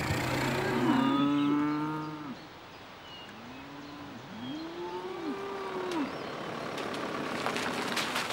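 Cows on a farm moo repeatedly, long loud calls close by at first, then further lowing over a steady background rumble.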